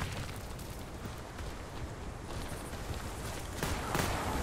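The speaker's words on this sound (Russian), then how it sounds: "Граната пошла!" Grenade detonation in the shooter game Warface, heard as a dense, continuous wash of blast and gunfire noise that swells toward the end, loud and busy with no clear single boom.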